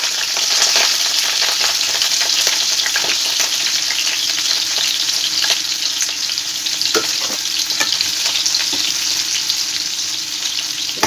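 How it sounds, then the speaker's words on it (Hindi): Jackfruit pieces frying in oil make a loud, dense, steady sizzle close up, with occasional stirring clicks and pops throughout, with no voices. "लाल लाल पणस फ्राए करदे"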